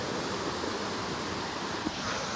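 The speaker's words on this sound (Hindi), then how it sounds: "ये जो आवाज आ रहा है ना, वो झरने का है, ना कि बारिश का।" Dudhsagar waterfall roaring nearby on a rainy trekking route, a steady, unbroken rush of falling water with no voices over it.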